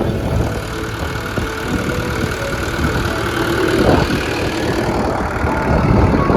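A tractor engine idles steadily in the open, a continuous low rumble that swells slightly toward the end, with no talk over it.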